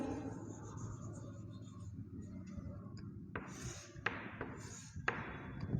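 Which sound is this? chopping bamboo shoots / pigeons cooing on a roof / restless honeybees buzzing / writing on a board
writing on a board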